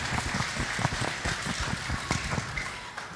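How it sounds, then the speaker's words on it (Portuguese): A church congregation at a youth revival service gives a round of applause, many hands clapping in a lively, uneven patter with some louder individual claps standing out near the listener. "vamos dar uma salva de palmas"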